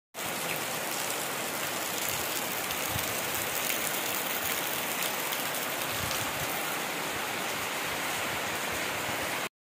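Rain falls steadily as a dense, even hiss, constant and fairly loud from start to finish, with no voices over it.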